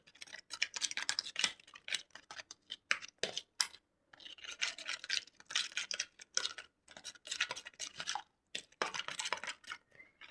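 Coarse salt being mixed into food by hand or spoon, with repeated scratchy, rubbing strokes and light clinks against a bowl in bursts with brief pauses, close and moderately loud, no talking.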